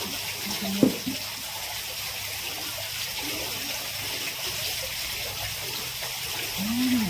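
Water runs steadily from a tap or hose beside rose pots being pruned, a continuous close gush with a brief knock near the start and no talk over it.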